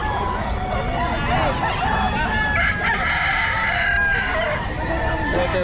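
A Gray gamefowl rooster crows loudly at the Bocaue pet market, with clucking fowl nearby over a constant crowd babble.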